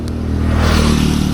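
A KTM RC390 motorcycle with a barrel exhaust and its dB killer removed revs loudly and close, a throaty, rising roar holding steady without pause.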